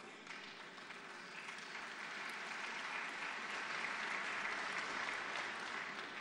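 Sustained applause from a large audience at the International Economic Forum 2017 in St. Petersburg, Russia, holding a steady, dense clapping texture across the whole stretch with no speech over it.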